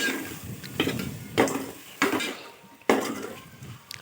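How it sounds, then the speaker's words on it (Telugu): Chopped boiled eggs stirred into a pan of vermicelli egg biryani, a spoon scraping and clanking against the metal pan in several close strokes with sharp knocks, over a faint sizzle. "ఆ గుడ్ల ముక్కలన్నీ వేసేసుకొని బాగా కలుపుకోవాలి."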